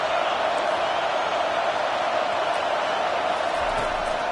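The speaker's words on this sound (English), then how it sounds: "how nice is it to have the home crowd going absolutely bananas?" Home crowd at a Florida versus Nebraska college football game roars in a dense, steady wall of stadium noise, with a broadcast commentator's voice faintly mixed in.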